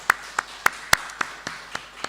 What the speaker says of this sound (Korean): 우리가 환송의 박수를 한번 드리도록